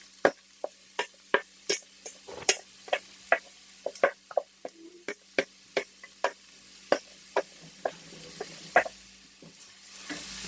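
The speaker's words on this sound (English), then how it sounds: "I'm going to put my onions and green peppers down in there." Onions and green peppers fry in olive oil under a soft background sizzle, punctuated by a long series of sharp, evenly spaced clicks and taps from stirring against the pan.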